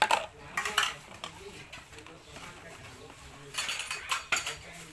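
Dishes and cutlery clink and clatter in bursts as a young woman washes up in a home kitchen in Maha Sarakham, northeast Thailand, with busier clusters of clinks at the start and toward the end.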